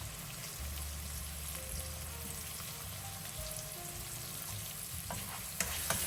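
Chicken seasoned with salt and pepper being stirred in a frying pan, a steady close sizzle with faint scraping of the utensil and a small clink near the end, no talking.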